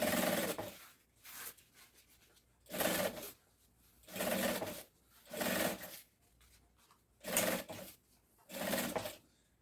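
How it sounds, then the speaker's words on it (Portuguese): A sewing machine stitches a padded backpack strap in about seven short bursts, each a second or so long, with quiet pauses between them as the fabric is repositioned. "Você pode costurar faceando aqui bem próximo"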